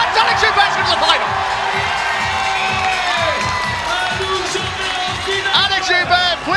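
Home crowd cheering and whooping loudly at a climbing World Cup speed final in Chamonix, with sustained roaring, shrill shouts and bursts of applause, and commentary voices running over the noise throughout.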